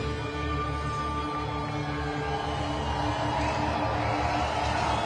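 A rally crowd at a Trump get-out-the-vote event in Conway, South Carolina, on its feet cheering and singing along to a song. The roar is steady and dense across the whole stretch, with music tones running beneath it.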